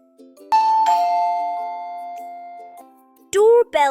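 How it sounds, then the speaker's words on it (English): A bright ding-dong doorbell chime sounds clearly, its second tone sustained and fading, followed by a short burst of another chime over soft background music. "Doorbell ringing."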